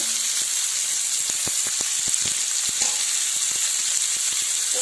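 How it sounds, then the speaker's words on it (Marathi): Onion frying in hot oil for egg bhurji, a loud, dense, continuous sizzle with scattered crackles and pops and a few stirring taps, close up with no talking. "आपलं तेल छान प्रकारे गरम झालेलं आहे त्यामध्ये टाकून घेऊया कांदा"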